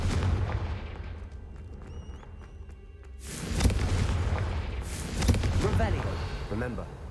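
The Confringo fire spell in Hogwarts Legacy on PS5 goes off as two loud, booming blasts after a quieter stretch of game sounds, with voices over the action.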